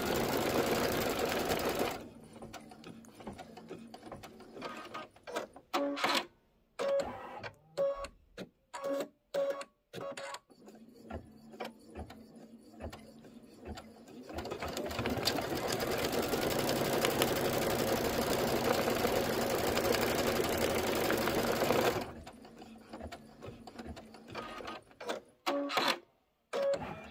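An embroidery machine stitches a trapunto pineapple pouch, giving steady rapid mechanical chatter and whirring that stops and starts in choppy bursts, then runs continuously for several seconds before breaking up again; recorded at moderate distance.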